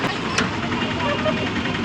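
A small petrol motor fitted to a pedal vehicle in Draksharamam runs with a steady, close idling drone and faint knock, while people talk over it.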